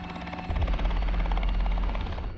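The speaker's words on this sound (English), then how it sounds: "Hearing the helicopter is the greatest sound you can hear" A rescue helicopter's rotor thuds and engine roar rise in loudness and hold steady, a heavy low rumble close overhead in a forest.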